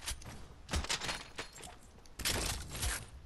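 Light machine gun fire in a video game comes in short bursts of rapid shots, loud and close, with quiet pauses between the volleys.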